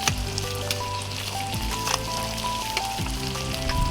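Noodles slid slowly into a hot pan for odong with sardines, a loud continuous sizzle crackling throughout, with a soft musical tone backing it.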